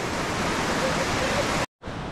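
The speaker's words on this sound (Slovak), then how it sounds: "Pozri, Šutovský vodopád." Šútovský waterfall in the Slovak mountains rushing in a steady, dense, close roar that fills the clip, briefly cutting to silence near the end before the roar resumes.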